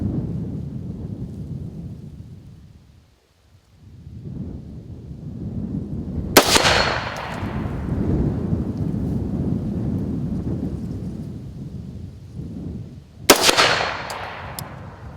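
Two sharp, loud rifle shots about seven seconds apart, each with a ringing decay, fired while zeroing on a steel plate at a 3-gun range at 50 and 200 yards, over a steady low wind-like rumble.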